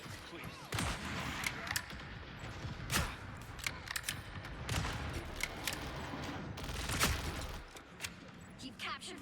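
Gunfire in the video game Marvel Rivals crackles in scattered sharp shots and short bursts amid game effects, fairly quiet overall.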